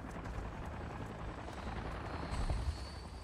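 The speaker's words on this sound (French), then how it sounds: "T'as amené l'hélico ?" Helicopter in the video game Avatar Frontiers of Pandora, a steady dense rotor and engine roar with a faint thudding pulse, loud and continuous, swelling slightly near the end with no talk over it.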